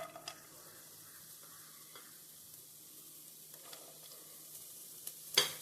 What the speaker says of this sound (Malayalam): എണ്ണയൊന്ന് ചൂടായി കഴിയുമ്പം അതിലേക്ക് ചുവന്നുള്ളി ഇട്ട് കൊടുക്കുന്നു.